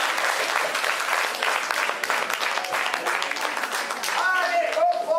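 Dense applause from an adult audience at an indoor show, continuous and close, with a voice cutting in near the end as the clapping continues.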